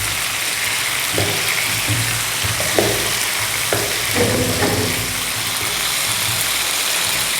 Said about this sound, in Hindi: 8 से 10 मिनट तक मुसलसल इसको फ्राई कर देना है इसी तेल में